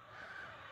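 Desi hens in a poultry shed holding about 300 birds give a brief, faint burst of clucking, a short steady murmur with no talk over it.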